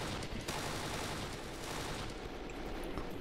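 Sustained gunfire in the video game Kane & Lynch 2: Dog Days, a dense, loud and continuous burst of rapid shots and rattling fire filling the whole stretch with no talk.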